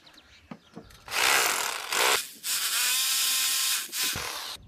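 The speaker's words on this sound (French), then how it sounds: "Donc maintenant avec le perforateur" A rotary hammer drill bores a hole in bursts: a few light knocks, then loud, close drilling runs separated by short pauses, ending with a final brief burst.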